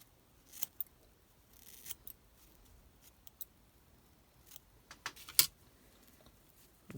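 Small scissors snip the tips of fly-tying material in a handful of short, light, scattered clicks against near silence, with no talking.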